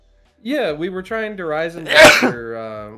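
One loud, sharp sneeze bursts out close by in the middle of ongoing conversation, with people talking before and after it.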